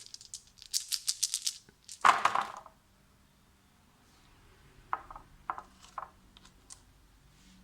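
Dice rattle and clatter for an Axis & Allies D-Day board game: a burst of rapid shaking, a louder tumble, then several scattered lighter clicks as the dice settle, with no talking.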